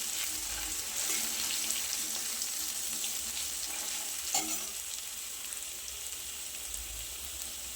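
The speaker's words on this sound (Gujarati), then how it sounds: "લસણ અને લીલા મરચાંની પેસ્ટ ઉમેરી દઈએ। હવે થોડી વાર માટે સાંતળી લઈએ।" Garlic and green chili paste sautés in a pan over low to medium flame, giving a steady close sizzle with occasional spoon scrapes and stirring clatter throughout.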